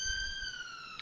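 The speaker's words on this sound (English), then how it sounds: "Ambulance. It was quite loud." An ambulance siren sounds outside, a steady wailing tone heard faintly at a distance for a brief moment.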